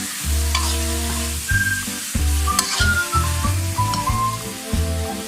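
Snakehead fish sizzles and crackles in a hot wok for stir-fried basil fish, with the rhythmic scrape and clatter of a utensil stirring through it, close and continuous.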